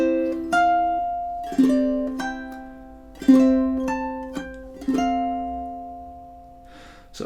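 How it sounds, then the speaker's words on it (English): Solo ukulele picks a short phrase of the Irish jig 'Smash the Windows', measures 16 and 17, with bright plucked notes and ringing chords in a lilting rhythm, close and clear with no talk. "Okay, so measures 16 and 17 together would sound like this."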